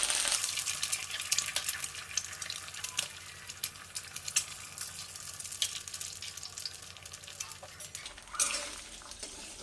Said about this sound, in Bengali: তেল দিয়ে এই ডিম দুটোকে আমি ফাটিয়ে কড়াইয়ের মধ্যে দিয়ে দিচ্ছি